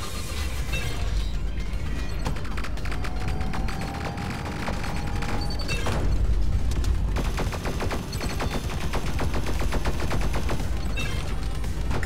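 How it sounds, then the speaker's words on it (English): Sustained barrage of enemy weapon fire and missile launches in the game Sublevel Zero, with dense rapid bursts, booms and mechanical whines filling the whole stretch at steady loudness. "let's go back for just a second, because it's firing missiles"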